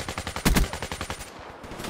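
An AK rifle in the video game Black Ops 3 fires a fast automatic burst, about a dozen sharp, evenly spaced shots lasting over a second, then a short fading tail.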